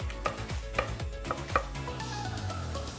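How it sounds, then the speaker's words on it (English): A knife chops salted garlic on a cutting board in a handful of sharp, evenly spaced knocks, close and distinct, followed by quieter grinding strokes. "Then with your knife, just grind it up. A couple of chops."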